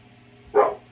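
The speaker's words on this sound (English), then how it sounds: "She stands in my chair and looks out the front window and then barks." A dog standing in a chair barks once at people walking past the front window, a single short, fairly loud bark over a low indoor hum.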